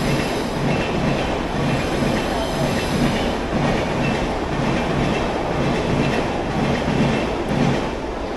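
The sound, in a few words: train passing by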